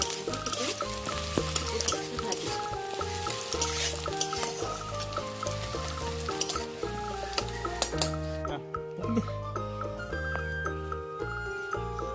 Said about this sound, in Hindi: तेल गरम हेगला एबे पियाज छाड़िया। पियाज भजा बादामी कलर होला